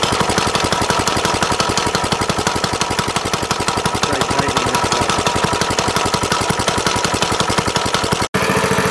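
A Little Indian minibike's 5 horsepower Honda single-cylinder engine runs close and loud with a fast, even popping beat, steady throughout before a brief cut near the end.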